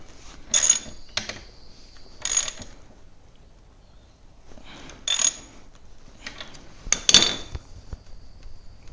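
Tightening the chain adjuster on a Sur Ron electric bike gives four short bursts of metallic ratcheting clicks, spaced irregularly a second or two apart, close up and fairly crisp against quiet background.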